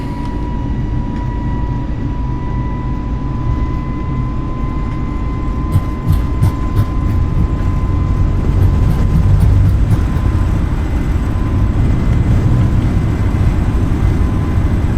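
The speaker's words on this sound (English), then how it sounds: "So we are now on takeoff roll." Airbus A321 XLR in Microsoft Flight Simulator 2020 on its takeoff roll at full throttle, a loud steady jet engine roar with deep rumble and a thin whine, rattles building as it accelerates.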